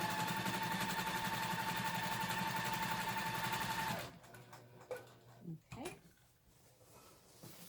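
Sewing machine stitching a quilt in the ditch, a steady close motor hum that runs for about four seconds and then stops, followed by quieter handling clicks and thumps.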